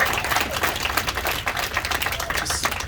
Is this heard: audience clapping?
yes